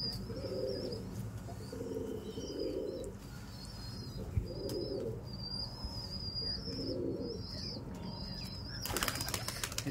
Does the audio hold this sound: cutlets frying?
no